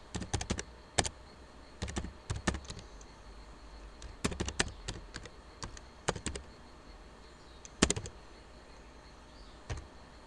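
Keys clack on a computer keyboard while a command is typed, in short quick bursts of crisp clicks separated by pauses, close and fairly quiet with no talking.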